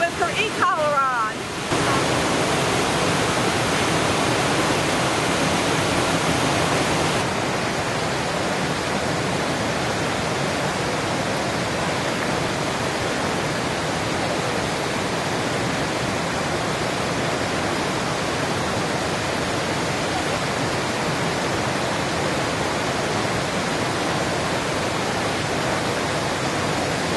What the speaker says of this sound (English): this beautiful spillway is open